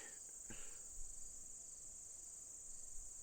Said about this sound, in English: darn grasshopper